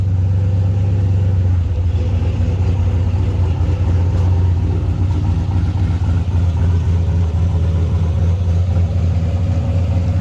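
A CO2-boosted RC car runs on a track, its small motor giving a steady, loud, continuous buzzing drone with a strong low hum throughout, no voices.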